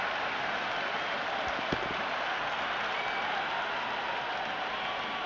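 A cricket stadium crowd at an India versus South Africa T20 match keeps up a steady, dense roar of applause and noise from the stands, even and continuous with no talk.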